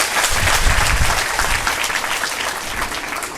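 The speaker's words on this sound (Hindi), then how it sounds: "ताली बजाकर परमेश्वर को महिमा करे।" A church congregation breaks into loud, dense applause during a Hindi sermon, steady many-handed clapping filling the space without pause.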